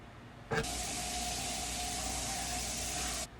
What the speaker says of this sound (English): I'm going to add some butter to my skillet and I'm going to pan fry the salmon.